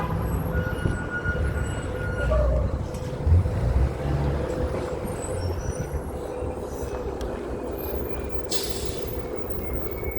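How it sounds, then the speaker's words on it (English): City buses pass on a busy street, a loud, steady engine rumble with traffic noise and a short hissing burst from air brakes near the end, and no voices. "Oh, I forgot that they have buses."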